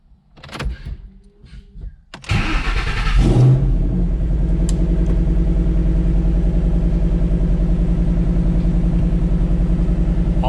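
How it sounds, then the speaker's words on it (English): A 2013 Shelby GT500 goes from quiet clicks and shuffling into a cold start: a brief cranking surge catches and the engine settles into a loud, steady, rumbling idle that holds to the end. "Let's do a cold start."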